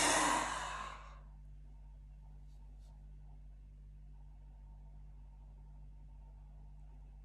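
A long exhale during a yoga breathing exercise, a breathy rush of air that fades within about a second, followed by quiet room tone.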